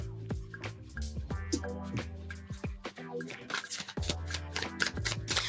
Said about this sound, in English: I don't generally shuffle reversals into this deck